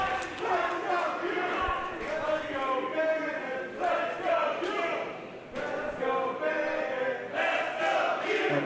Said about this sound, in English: And dueling chants here from this Premier Arena crowd.